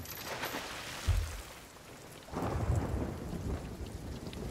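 A thunderstorm in the Sea of Thieves pirate game: steady rain hisses throughout while deep thunder rumbles, a sharp low crack near the one-second mark and a longer rolling peal in the second half, with no voices.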